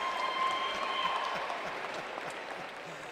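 An audience claps at a high school graduation ceremony, a dense, moderately distant wash of applause that slowly fades over a few seconds with no talk.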